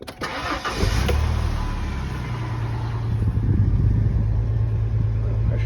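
A Ford F150 pickup engine cranks briefly after an oil change, then catches and settles into a loud, steady rumbling idle up close.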